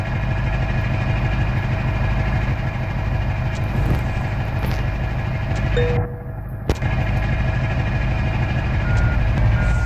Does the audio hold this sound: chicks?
no